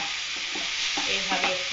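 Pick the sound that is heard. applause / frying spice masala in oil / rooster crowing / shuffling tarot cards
frying spice masala in oil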